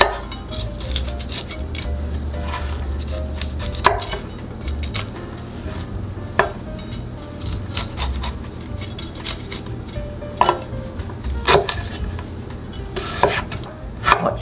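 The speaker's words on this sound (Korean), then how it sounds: "송이 중간에 이렇게 칼집을 넣어서 잘라주세요." A knife cuts broccoli florets with repeated sharp clicks and taps against a cutting board, irregular and close, with light clinking of kitchenware between cuts and no talking.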